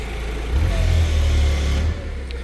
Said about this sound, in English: you always want to give your forklift a little bit of RPM while you're running the hydraulics up, down